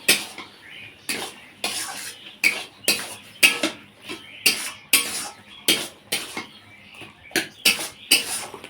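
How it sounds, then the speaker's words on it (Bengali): Metal spoon scraping and clanking against a pan as fried chickpeas are added and stirred into taro greens, about a dozen sharp rhythmic knocks, close and clear. "ভেজে রাখা ছোলাগুলো দিয়ে দিচ্ছি।"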